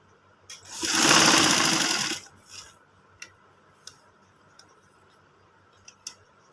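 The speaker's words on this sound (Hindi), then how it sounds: "यहाँ से फिर इसकी सिलाई लगाएंगे।" A sewing machine runs a short, loud burst of stitching on a men's side pocket, followed by a few faint clicks and taps of handling; no talk.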